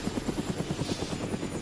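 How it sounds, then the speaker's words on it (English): A helicopter hovers in the Arma 3 video game, its rotor thumping in a fast, even rhythm over a steady engine drone, moderately loud and alone. "It's a helicopter, yeah."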